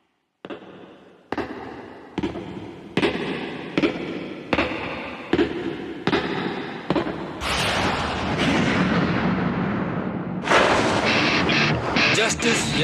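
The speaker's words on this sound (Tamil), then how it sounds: "எனக்கு பின்னாடி பயங்கர சத்தமா வெடிக்கிறத இப்ப நீங்க பாத்துட்டு இருக்கீங்க" Loud booms and blasts burst out one after another in an anime monster attack, a run of sharp close explosions followed by sustained roaring destruction with further heavy hits.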